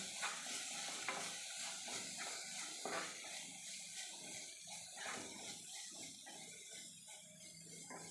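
Spices being stirred into dal, garam masala and salt included, in a pan: a steady soft scraping and gentle sizzle with irregular spoon knocks, moderately close, no voices.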